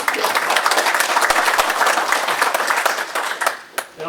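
An audience at a Washington County board meeting applauds in a steady, loud burst of clapping that lasts several seconds and then tapers off, with a few scattered claps at the end.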